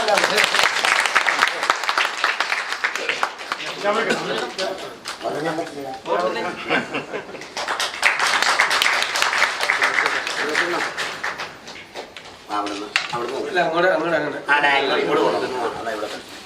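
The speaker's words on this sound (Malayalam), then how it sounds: "കൈയടിക്കണം" An audience claps at a film launch ceremony where a ceremonial lamp is lit, with bursts of applause swelling and fading while people talk loudly over it.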